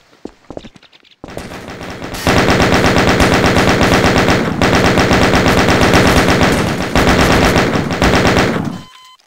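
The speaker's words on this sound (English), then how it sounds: "I'll get the chain gun." Chain gun firing continuously in the video game Garry's Mod, a loud, dense rapid-fire rattle that runs for several seconds, with a short break partway through, before cutting off.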